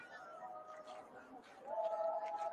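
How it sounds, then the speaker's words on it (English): Background chatter from spectators in a stadium during a women's football final, a soft continuous crowd murmur that grows a little louder partway through, distant and faint throughout. "The crowd have been vocal throughout."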